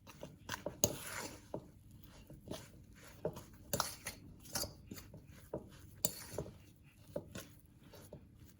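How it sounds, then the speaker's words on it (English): Flour, water, thyme and salt being mixed into wrap dough in a bowl, with irregular close clinks and scrapes of a utensil against the bowl, no voices. "And I'm mixing it until it forms the dough."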